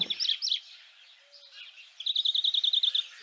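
A songbird sings close by: a few sharp chirps, a brief pause, then a fast, even trill of repeated high notes, clear against a quiet background.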